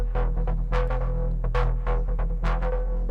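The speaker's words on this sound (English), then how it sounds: "the last element that we have is this bass sound that I just made" A synthesized bass sound made in Faceplant plays on its own, a sustained throbbing low tone with a repeating rhythmic pattern of short brighter plucks, steady and fairly loud throughout.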